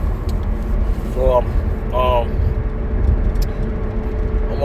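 A car drives along on the way to work, with a steady low road and engine rumble filling the clip and brief speech under it.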